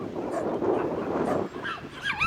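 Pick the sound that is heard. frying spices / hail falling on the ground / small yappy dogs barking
small yappy dogs barking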